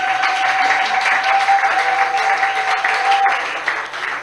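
A church congregation at a prayer seminar applauds to acclaim Jesus, a steady, dense wash of clapping from many hands that lasts throughout and fades slightly at the end.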